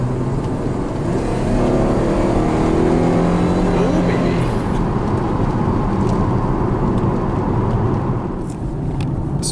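Exhaust note of a 2013 Chevy Camaro while driving, a loud burbling engine roar that rises in pitch as it accelerates, then settles to a steady cruise rumble with road noise, no voices.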